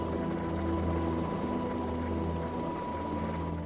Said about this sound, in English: The helicopter is the undisputed champion of the injured and the sick.